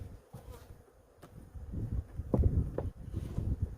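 Honeybees buzzing over a hive frame during an inspection, a low steady hum that swells louder toward the end, with faint handling sounds and no talk.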